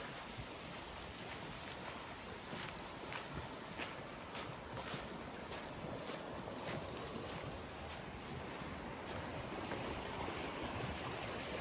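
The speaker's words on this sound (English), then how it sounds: "This water is really moving." Fast-moving stream water rushing at a fording site on a backpacking trail in Shawnee State Park, Ohio, a dense, steady roar close by with no voices.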